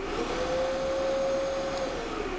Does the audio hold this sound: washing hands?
no